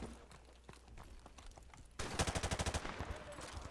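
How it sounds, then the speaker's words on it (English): Rapid machine gun fire in a video game battle, a quick burst of about a dozen evenly spaced shots after a stretch of quieter scattered background noise, loud and close. "There's guy on the machine gun."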